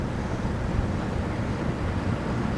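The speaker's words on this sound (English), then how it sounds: "you're likely to get a gush of wind on the sound" Steady, heavy wind buffets the microphone on a tobacco farm at harvest time in a constant low roar with slight gusting, no voices or other sounds.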